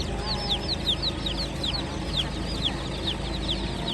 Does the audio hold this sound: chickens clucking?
yes